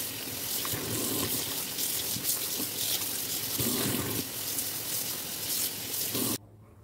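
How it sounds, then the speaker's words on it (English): Cold tap water runs steadily over a dyed fabric duster being rinsed, a loud, continuous gushing splash that stops abruptly near the end. "I'm just going to rinse this in cold water until the water runs clear from my duster."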